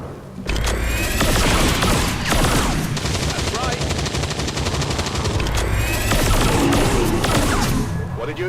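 Sustained heavy gunfire and explosions from the video game XCOM 2 roar continuously for several seconds, with dense rattling bursts and booming impacts that swell and fade near the end.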